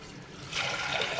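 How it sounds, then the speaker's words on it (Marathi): A glass of water poured into a pot of dal for boiling makes a brief, close splash that swells into a rushing pour. "हां एवढं एक पाणी टाकायचं एक ग्लास भरून"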